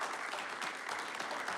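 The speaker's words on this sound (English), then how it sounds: "So please give him a round of applause." Applause from the audience at a Village of Gurnee board meeting, a steady dense patter of clapping hands that carries on without a break and with no talk over it.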